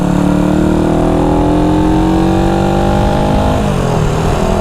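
A 1974 Honda CB360 motorcycle engine drones loud and close while being ridden, its pitch climbing steadily before dropping off near the end, with no voices.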